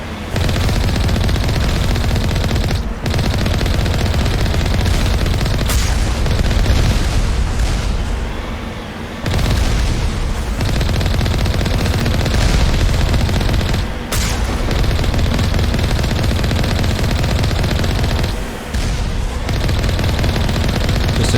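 Sustained, loud gunfire from turrets in the sci-fi video game Mass Effect, dense rapid bursts and booms continuing almost without pause, with a few brief gaps between volleys.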